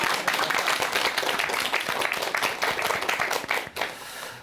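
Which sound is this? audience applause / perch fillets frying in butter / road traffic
audience applause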